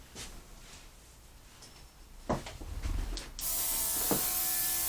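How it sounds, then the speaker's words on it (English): A small compressor-fed airbrush sprays in short bursts, then settles into a loud, continuous hiss that holds steady to the end, with a few clicks and knocks beforehand. "Now I think I'm going to grab my little compressor, my airbrush, and just do a couple of little areas."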